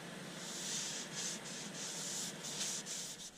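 A hand rubs repeatedly across punky wood grain on a vase glue-up, producing soft, rhythmic scratchy strokes, close up and quiet, with no speech.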